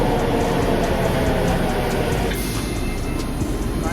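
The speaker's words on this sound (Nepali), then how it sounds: "10:36 को ट्रेन छ।" A train rolls into a station in Japan late in the evening, a steady loud rumble of wheels and carriage noise that eases slightly as it slows, with a brief high brake squeal midway.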